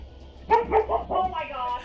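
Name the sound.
dog barking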